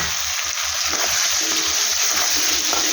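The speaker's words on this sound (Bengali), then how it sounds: "আমি এটাকে এখন ভালো করে কষাবো" Potatoes fry with a ginger-garlic-onion-chili paste and are stirred steadily, a close, constant sizzle broken by a regular scraping rhythm of the spoon against the pan, with no voices.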